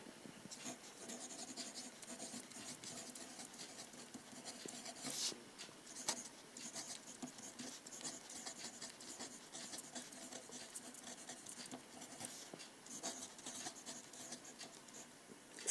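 A Uni Kuru Toga rotating mechanical pencil scratches across paper in steady close strokes, a soft continuous scratching with small taps and pauses, quiet and alone.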